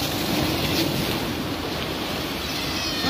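Ocean surf washes steadily against the shore at a fishing spot, a continuous loud roar mixed with wind buffeting the microphone.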